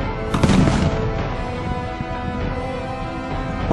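A musket shot at a reenactment of the Battle of Almansa cracks out loud and sharp near the start, then fades into a dense, noisy battlefield din with scattered distant reports.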